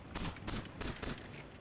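SMG gunfire in Counter-Strike on the Nuke map comes in rapid bursts of shots, several quick clusters close together at moderate level, with no voices heard.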